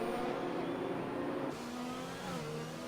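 Race car engines in a sim racing game round, a loud continuous drone with shifting pitch as the cars rev and change gear, no voices.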